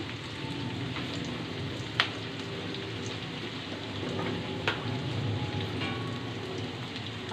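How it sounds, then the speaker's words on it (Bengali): Onion frying in a pan for a spiced liver dish, a steady close crackling sizzle with a couple of sharper pops and no talk. "পেঁয়াজটাকে ভালো করে ভেজে নিব দিয়ে দিব লবণ"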